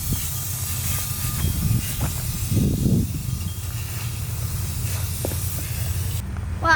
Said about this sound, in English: Now the paint is dry, we're putting on a clear coat.